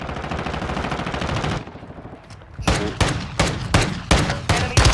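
Video game gunfire in a squad-based shooter match rattles in a sustained automatic stream, breaks off briefly, then returns as a series of loud, punchy shots.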